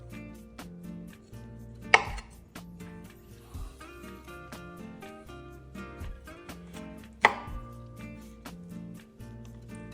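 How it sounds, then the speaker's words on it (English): A knife cuts through the joints of a spatchcocked chicken on a board, giving close, sharp taps and knocks in an irregular rhythm, with two louder thuds standing out. "It almost just pulls right apart, and then your knife kind of just finishes it."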